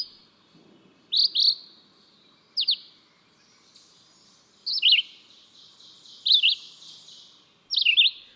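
Songbird singing high in a tree canopy, a series of bright, sharp chirping phrases repeated at intervals, moderately close and clear over quiet background.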